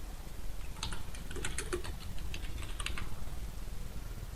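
Short bursts of quick keystrokes on a computer keyboard while a password is entered, close and fairly soft, clustered in the middle with brief pauses and no talk.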